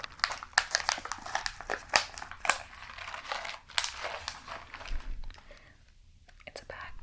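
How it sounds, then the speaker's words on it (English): A bag of peanuts crinkles in close, crisp bursts, with sharp rustling crackles coming in irregular clusters and settling into softer handling noise toward the end. "It's a bag of peanuts. But the crinkling noise is quite strong."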